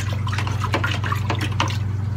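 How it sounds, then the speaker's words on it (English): Water is agitated by hand to mix a coral dip for an acropora colony, a steady close sloshing and splashing with small drips, continuous and fairly loud over a low pump hum. "we're gonna just agitate the water"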